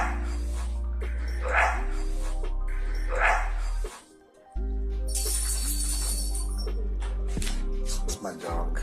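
A dog in a courtroom gives several short barks and yips spread through the scene, with people talking over a steady room hum.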